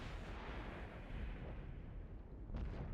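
Rapid gunfire and explosive booms from a competitive team shooter video game match, a dense continuous barrage with a sharper burst near the end.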